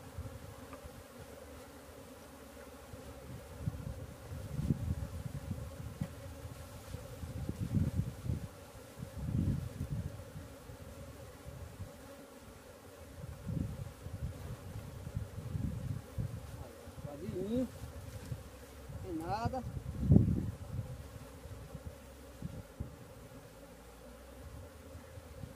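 Honey bees hum continuously around hive combs while the combs are being changed, a close, fluctuating buzz with occasional louder passes and faint handling noises.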